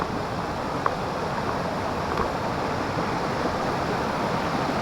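Odugathur Thottiparai waterfall in Tamil Nadu, a steady broadband rush of falling water heard close and constant, moderately loud with no voices over it.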